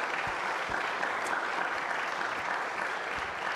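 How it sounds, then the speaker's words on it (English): Church congregation applauding a newly baptised baby girl during a contemporary worship service. Steady, full clapping runs evenly throughout, alone and without talk. "How about a round of applause for her?"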